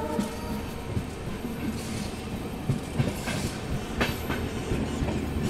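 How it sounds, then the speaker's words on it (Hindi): A tourist train hauled by an EMD locomotive pulls out of Veraval at night, wheels clattering over rail joints in a steady rumble heard from inside the coach. "ये भी EMD लोकोमोटिव के साथ, इसी के साथ वेरावल से हम लोग निकलते हुए।"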